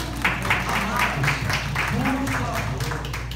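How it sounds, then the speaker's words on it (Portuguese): An audience gives a warm round of applause for lawyers at a panel discussion on parental alienation and child protection, with rapid steady clapping running under a person talking. "Uma salva calorosa de palmas para vocês, advogados."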